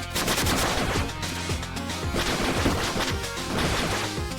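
A chaotic burst of crashing, blasting explosion effects from a retro pixel-art ninja action game, dense and continuous with repeated impacts piled over a constant loud wash of game noise.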